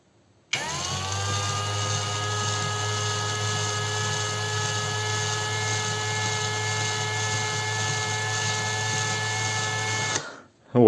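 A DRIVAK ED002 cordless screwdriver starts and runs at its lowest speed, a steady close whine with a low motor hum for about ten seconds before cutting off.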